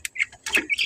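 One-month-old chicks chirping up close: a quick flurry of several thin, high peeps over less than a second.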